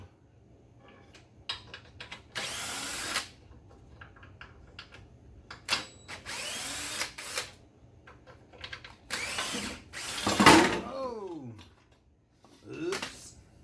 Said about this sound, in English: Let's see if my cheapo drill will run these out.